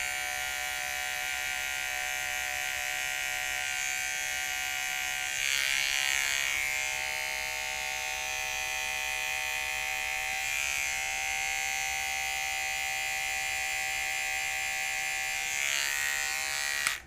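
Electric hair trimmers with a guard buzz steadily and close while cutting a skin fade, a constant high whine that dips and shifts slightly as the blades move through hair.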